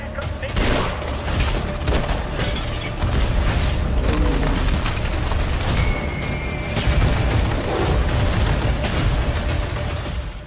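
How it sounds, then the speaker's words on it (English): Video game gunfire in an Atomic Heart trailer, with bursts of shots and heavy booms layered over a dense, loud mix of mechanical noise and effects, with a voice speaking through part of it. "Shots fired."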